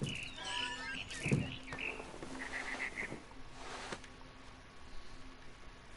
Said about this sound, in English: heard chirping outside my window. It was a barn swallow going back to her nest.